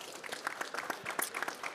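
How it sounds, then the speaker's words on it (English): A brief, soft round of applause from an audience at a COP29 climate dialogue session, scattered claps heard at a distance and fairly quietly. "Round of applause, please."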